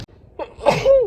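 One close, loud human sneeze with a short intake of breath and then a sharp voiced burst, heard alone.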